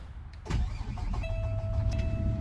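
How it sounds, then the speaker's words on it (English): A car engine starts up: a sudden low rumble kicks in and settles into a steady idle, with a thin whine running above it, close by and fairly loud. "Now, I'll show you here what I was talking about before with the engine. When you start it up,"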